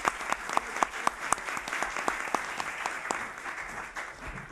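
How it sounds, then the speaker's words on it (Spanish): Audience at a conference in Casa Árabe in Madrid breaks into sustained, dense applause, many hands clapping close and loud for several seconds. "Hay que aplaudirlo."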